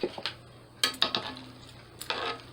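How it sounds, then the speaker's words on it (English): A pot of water with spices and pasta being stirred, with a few scattered clinks and scrapes of a utensil against the pot and soft bubbling between them, fairly quiet. "Just stir that up."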